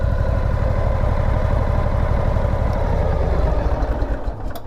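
A Harley motorcycle engine idles steadily and loud up close, a continuous low rumbling throb that holds evenly for the whole stretch with no talking over it.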